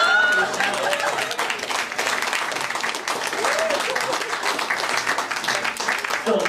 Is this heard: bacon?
no